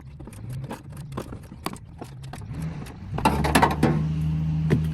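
Quick ratchet clicks and mechanical rattling of a quarter-inch ratchet turning a bolt inside the door panel of a 1986 Toyota Pickup, a steady run of clicks at close range, growing louder and busier toward the end.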